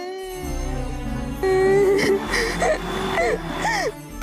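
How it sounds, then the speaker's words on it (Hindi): A girl cries nearby in a dramatized scene, with wavering whimpers and rising and falling sobbing wails over a steady sustained tone. "अरे ये रोने की आवाज किधर से आ रही है?"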